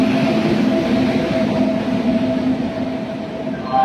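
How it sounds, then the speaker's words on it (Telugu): A Nagarsol-bound passenger train pulls into a station, its steady loud rumble and droning hum filling the scene without letup, with no voices over it. "మన నాగర్సోల ట్రైన్ అయితే వస్తుందండి"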